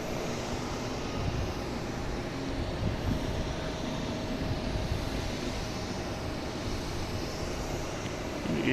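An airliner departing Boston Logan International Airport for Montreal, a steady, distant engine roar with a broad low rumble that holds fairly even across the whole stretch.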